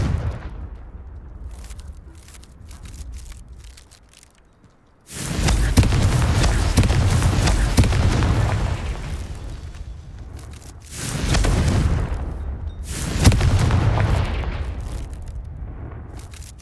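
Blasting-spell explosions in the Hogwarts Legacy video game: a sudden broadband burst that rumbles on for several seconds, followed by two more loud blasts, over quieter game ambience.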